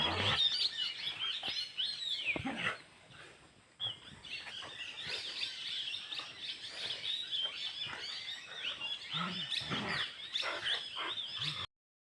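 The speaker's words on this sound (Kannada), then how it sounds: "ಅದರಲ್ಲಿ ಗಿಳಿಗಳು ಬಂದು ಕೂತ್ಕೊಳ್ಳೋದು" Many parrots squawking and chirping in a busy, overlapping chorus at a moderate distance, calls continuing throughout with brief lulls.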